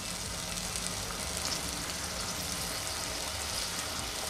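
Onion and tomato sautéing in a pan for chana masala, a steady soft sizzle and crackle of frying that runs without a break and stays fairly quiet and close, with no talking.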